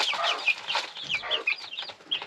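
Several chickens on an off-grid homestead cluck and chatter continuously at close range, with sharp overlapping squawks and clucks throughout.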